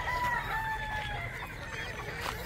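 Chickens in a Filipino farmyard, including four-month-old banded birds, with a rooster's crowing call carried in long drawn tones over steady clucking and background clamor, moderately near.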